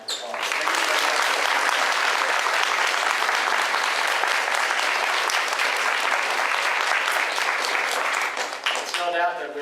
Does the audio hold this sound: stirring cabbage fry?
no